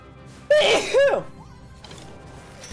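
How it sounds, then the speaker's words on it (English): A single close, sharp sneeze bursts out after a quiet start, then fades into low background noise. "I'm gonna sneeze."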